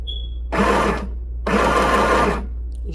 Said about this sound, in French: Je vais appuyer sur ma pédale, sur la pédale de ma machine à coudre.